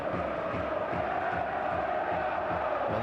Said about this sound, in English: the noise you can hear now is of the home support